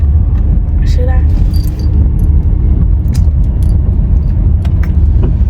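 A car drives along, heard from inside the cabin as a steady loud engine and road rumble with light jingles and clicks, while people talk over it.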